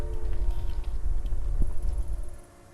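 In the video game Tokyo Dark, an earthquake makes a deep, loud rumble with rattling and clattering over it. It builds steadily, holds for a couple of seconds, then drops away abruptly.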